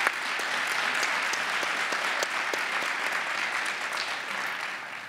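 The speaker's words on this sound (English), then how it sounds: "can I get one more round of applause for these inspiring young men?" Steady, sustained audience applause fills a panel event at The New School, a dense wash of many hands clapping at even loudness throughout with no talking.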